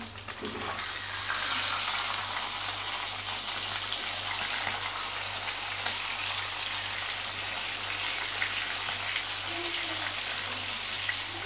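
Fish frying on a tawa after being flipped, a steady close hiss and sizzle of oil running evenly throughout with faint crackles and no talking.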